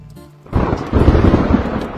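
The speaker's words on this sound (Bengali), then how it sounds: "বৃষ্টি আসছে, চলো।" Thunder breaks after a short quiet moment, a heavy low rumble that swells and rolls on with the hiss of rain starting outdoors, loud and close, with no one talking.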